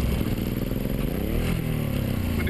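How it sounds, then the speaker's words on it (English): A Suzuki Boulevard M109R motorcycle with a gear fault revs hard and steadily nearby, its loud engine note rising and wavering as it pops out of gear into neutral. "That's the sound of Rutledge's motorcycle unexpectedly going into neutral."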